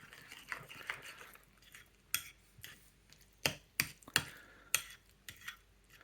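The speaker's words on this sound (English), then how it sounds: "I'll give it a stir a bit more" A spoon stirs oat porridge with flax seeds and blueberries in a pot, giving sparse, uneven scrapes and clinks against the metal that are fairly close and soft, with quiet gaps between them and no talking.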